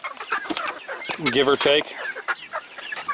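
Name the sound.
Black Copper Marans chickens clucking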